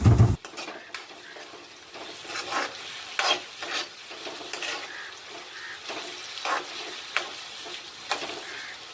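Two onions and a few curry leaves frying in hot oil for a cabbage tomato curry, a steady soft sizzle with repeated scraping and stirring strokes of a spoon in the pan, heard alone.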